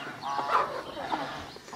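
An Aseel hen in a village coop gives two short, nasal clucking calls close by, the first louder, over a quiet rustling background.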